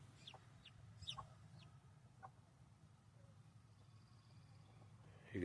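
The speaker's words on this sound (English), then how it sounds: "What a fine specimen of a rooster." A free-range rooster, part Rhode Island Red with a frostbitten comb, giving a few soft clucks early on, quiet and somewhat distant, then mostly low outdoor background with faint noises.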